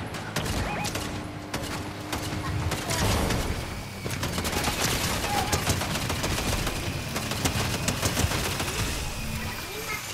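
Gunfire from the video game Fortnite comes in dense, continuous automatic bursts of rapid rattling shots, loud and sustained throughout with brief busier flurries.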